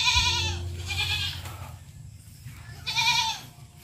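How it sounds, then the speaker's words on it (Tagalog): A goat on a farm in Pangasinan bleats three times, loud and close, each call a wavering drawn-out cry with short pauses between them and no talking. "So meron din ditong kambing."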